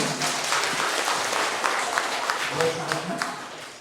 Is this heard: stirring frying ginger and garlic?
no